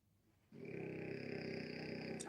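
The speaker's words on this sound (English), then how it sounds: "I don't even get to hear this dog snoring away" A dog snores nearby, letting out one long, drawn-out rumbling breath that starts abruptly and holds steady at a fairly strong level.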